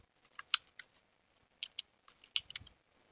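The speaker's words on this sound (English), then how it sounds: "Here you can type your password" Soft clicking keystrokes on a computer keyboard while a password is entered during a software install, coming in small irregular clusters with short pauses between, quiet and close, with no voices.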